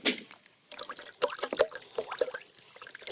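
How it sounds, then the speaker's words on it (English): Water splashing and trickling out of a clear water level line while leveling a portable building, a run of small close splashes and drips with gurgles, no talking. "oh, you're splashing that out, Clay."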